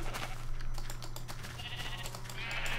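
Blocky Minecraft sheep bleat over a constant low game hum, with faint tapping and a brief higher cry near the end.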